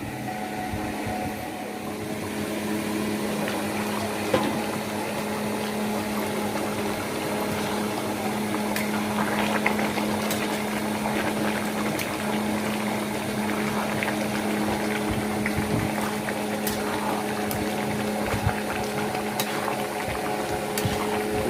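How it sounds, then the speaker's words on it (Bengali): Mutton curry with chuijhal simmering in a covered pot, a steady low bubbling and hissing murmur with faint scattered pops, continuous and even throughout, no voices. "ঢাকনা দিয়ে ঢেকে 10 মিনিট রান্না করব, আমাদের মাংস রান্না শেষ হয়ে যাবে।"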